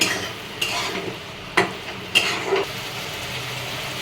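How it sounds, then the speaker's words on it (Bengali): Pointed gourd curry with garam masala is stirred in a pan: a few distinct spoon scrapes and clinks stand out against a low, even sizzle, close by and without voices. "হালকা গরম মশলা দিলাম, এবার এটাকে একটু নাড়িয়ে নেব।"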